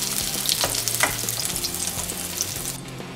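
Chopped capsicum sizzles steadily in hot oil in a kadai, a loud continuous frying hiss with occasional stirring scrapes, no voices.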